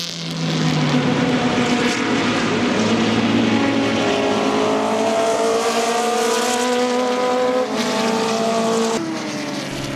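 Loud, close roar of Super Vee and Monoposto Formula B and Formula 2 open-wheel race cars at Virginia International Raceway, engines whining and shifting pitch as several cars pass in quick succession.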